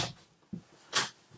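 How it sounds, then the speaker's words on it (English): A pantry closet door in a 2020 Montana High Country 334 BH fifth-wheel trailer opens with a short thump and a soft, airy swish, close and brief, with no talking. "Just gonna open a door."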